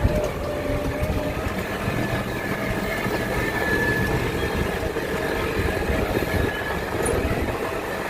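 A small tractor's engine drones steadily and loudly while the machine turns, a dense, unbroken rumble with mechanical rattle heard close up, with no clear pauses or changes.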